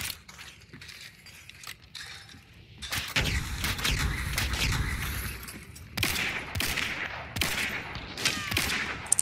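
Gunfire in the shooter game Hunt: Showdown, bursts of sharp shots and rapid crackling fire with mechanical clicks, moderately loud and layered over game ambience.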